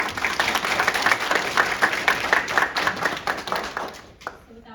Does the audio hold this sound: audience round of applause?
yes